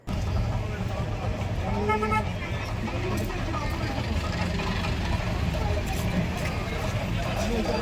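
Dense, crowded road traffic near the Uthralikavu pooram exhibition in Thrissur, a continuous rumble of engines with occasional car horns honking, heard from inside a car while people talk over it throughout.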